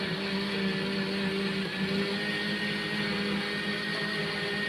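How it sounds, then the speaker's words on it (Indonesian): A kitchen blender whirs continuously while mixing full cream milk with pudding mix for fruit dessert cups, a steady loud motor drone with no talking. "Lanjut, ini di blender sampai tercampur merata."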